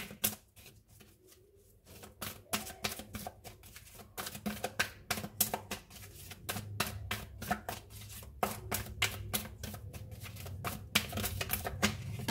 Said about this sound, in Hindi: अभी एनर्जी और आइकल से कुछ कार्ड्स निकालते हैं यहाँ से